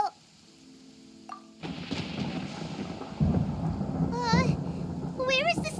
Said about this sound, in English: Paimon hears thunder!